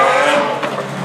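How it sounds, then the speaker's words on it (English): A Lamborghini Aventador S passes close by with a loud, strained engine roar and tyre noise, short and dense, with no voices. "Alltså en Lamborghini Aventador S."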